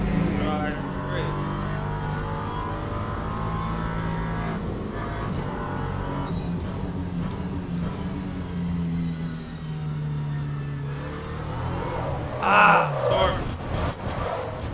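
An LMP3 prototype race car engine in the Le Mans Ultimate sim racing game revs through the gears, its pitch climbing and dropping in a series of sweeps, with a louder burst of revving near the end.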